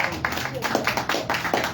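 Church congregation clapping for Christ during a Pentecostal service, a steady run of rhythmic hand claps heard close and loud under a continuous bed of voices and crowd noise.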